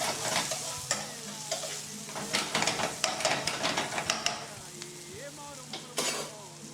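Onions cooked alla cacciatora sizzle in a pan while a utensil stirs them, giving repeated scraping strokes over a steady frying crackle, close up; a voice speaks briefly.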